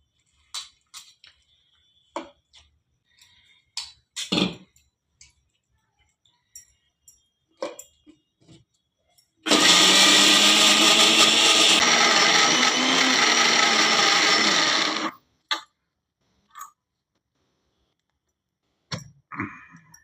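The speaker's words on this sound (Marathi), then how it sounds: "आता ही मुगाची डाळ त्याच्यामध्ये बारीक करून घ्यायची" A mixer grinder grinds moong dal with a little coriander, running as one loud continuous whir for about five seconds, with sparse kitchen clatter before and after.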